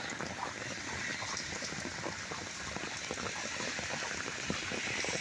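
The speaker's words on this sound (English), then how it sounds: "You can't really see it, but it's still raining a little bit" Light rain falling into floodwater after a heavy downpour, a steady dense patter and trickle that stays constant throughout, close and fairly loud, with no voices.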